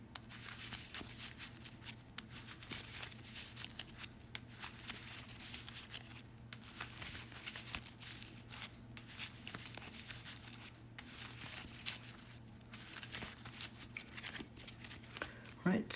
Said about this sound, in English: Let's give it a couple shuffles